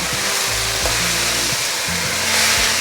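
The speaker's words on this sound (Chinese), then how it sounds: "赶快翻炒" Seasoned fuzzy melon stir-fried in a hot pan, giving a loud, constant sizzling hiss with a low hum running underneath and no voices.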